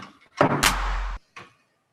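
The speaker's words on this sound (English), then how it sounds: "So now every time I lift the knock, it will make a sound." A door knocker lifted and dropped gives a loud sharp knock with a heavy low thud and ringing tail, followed by a fainter second knock, with no one talking.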